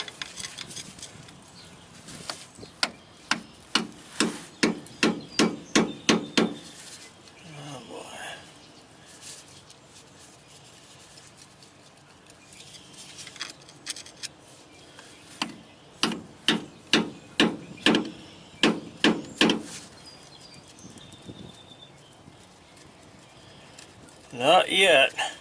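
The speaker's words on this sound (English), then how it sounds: "It's not doing anything with a hard chisel and a hammer." Hard chisel driven by a hammer against a hydraulic cylinder part during home resealing, with bursts of sharp, rapid metallic strikes in quick runs separated by quieter pauses and light background noise.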